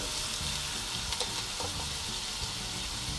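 Rice and grilled fish cook in a pot with a continuous loud sizzle and crackle, with occasional light stirring clinks.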